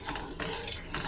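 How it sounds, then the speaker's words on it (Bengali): A spatula sweeps oil seasoned with salt and turmeric around a kadai, producing close, repeated scraping strokes against the metal over a light sizzle. "এবার তেলটা চারদিকে নাড়িয়ে নেব"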